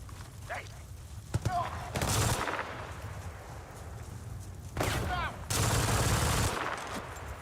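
Gunfire in the Battlefield 6 multiplayer video game, two loud bursts of rapid automatic fire with quieter pops and a player's voice between them.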